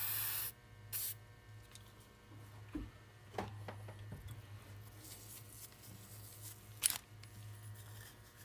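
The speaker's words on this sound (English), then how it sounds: "I'm just going to spray some lubricant on there." Lubricant sprayed from an aerosol can onto a master cylinder during a rebuild, heard as a few short, quiet hissing bursts separated by pauses against a low steady hum.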